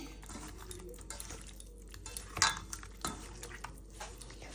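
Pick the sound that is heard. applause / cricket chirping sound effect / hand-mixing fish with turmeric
hand-mixing fish with turmeric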